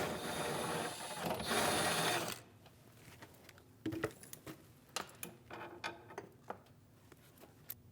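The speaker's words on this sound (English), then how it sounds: "Using an E18 socket, remove the bolt for the brace in the middle." Ratchet with an E18 socket backing out the center strut brace bolt on a 2010-2015 BMW X1 during valve cover work: a steady whirring burst up front, then a series of sharp, close mechanical clicks and taps.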